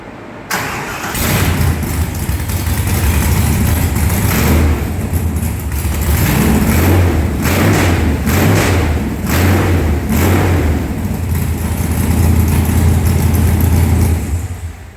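A 1939 Chevy engine cranks and catches, then runs steadily at a close, loud idle with a few surges in revs across the stretch.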